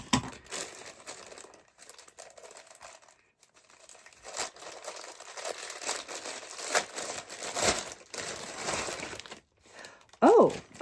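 Scissors cutting through a plastic package of embroidery floss, with bursts of crinkling and crackling plastic across the clip and a sharp louder rustle near the end, close to the microphone.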